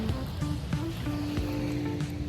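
Sea waves wash steadily against the shore, a continuous near surf with soft broadband swash and no talking.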